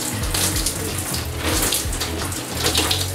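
Shower water running over hair while rinsing, a loud continuous splashing hiss with shifting spatters as the hair moves under the stream, close up and without talking.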